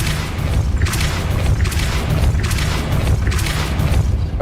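Depulso spell blasts in Hogwarts Legacy, a loud continuous rumbling boom with repeated surging pulses of force about every second, heavy low end throughout.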